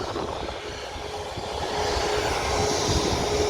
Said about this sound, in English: Man, look at them engines.